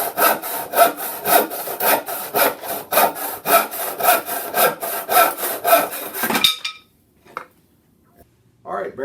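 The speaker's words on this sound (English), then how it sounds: "We're using the handsaw to cut our dowel down to 18 inches for our handle." A handsaw cuts through a wooden dowel in steady back-and-forth strokes, a rhythmic rasping close up that continues for several seconds and then stops abruptly, leaving near silence with a couple of small knocks.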